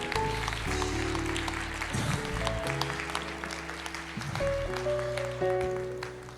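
A church congregation claps and applauds steadily over loud worship music, the clapping continuous throughout.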